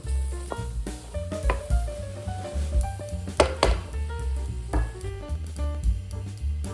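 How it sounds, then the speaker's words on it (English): A butter and flour roux is stirred in a pan, with repeated scraping and knocking strokes of the utensil against the pan and a light sizzle, close and uneven. "Stir the roux to incorporate the flour and butter."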